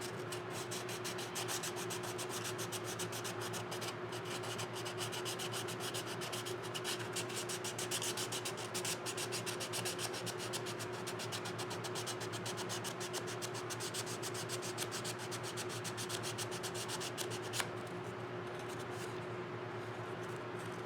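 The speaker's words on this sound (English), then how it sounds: "you can take the hobby knife and just kind of scrape away at it." Hobby knife scraping thick paint off the curved surface of a model Ford Bronco race truck, a steady fine rasping scrape that continues close up for the whole stretch without a break, with a low steady hum running underneath.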